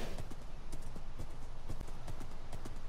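Horse hooves clip-clopping in the Minecraft video game, a steady run of close, even hoofbeats carrying on throughout with no talking.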